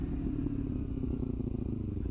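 A Kawasaki Ninja 300 fitted with a Danmoto GP Extreme aftermarket exhaust gives off a low, steady, burbling rumble, fairly quiet and continuous throughout.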